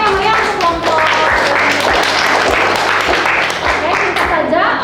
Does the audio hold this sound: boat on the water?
no